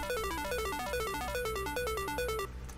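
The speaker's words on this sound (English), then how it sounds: "the betrayal pluck sound from the Andromeda kit" Betrayal synth pluck from the Andromeda kit, a quick stream of bright plucked notes stepping down in repeated arpeggiated runs, steady and unaccompanied, fairly soft.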